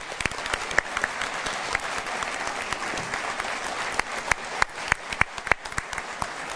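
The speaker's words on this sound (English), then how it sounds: "May we give him another round of applause." Audience applause following an opening address at the Global Peace Convention 2012, an even wash of many hands clapping with a few sharper, closer claps standing out, heard alone without talk.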